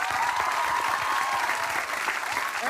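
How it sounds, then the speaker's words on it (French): Studio audience at a competition show finale applauding the women contestants, a dense, steady wash of clapping with crowd noise filling the whole stretch. "alors on les applaudit."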